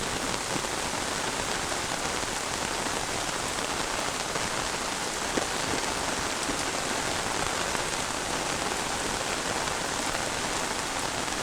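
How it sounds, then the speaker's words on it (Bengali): Dense, steady rain drumming on a tin roof in a village, a continuous close patter of countless drops with no pauses. "বৃষ্টির মধ্যে টিনের ঘরে আরো বেশি ভাল লাগে top top top top top top বৃষ্টি করে"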